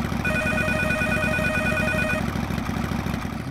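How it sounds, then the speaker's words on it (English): An old-style telephone rings in the video game Mizzurna Falls, a steady electronic trill repeating for about two seconds over a constant low engine-like hum. "He is definitely going to come down here to answer that phone"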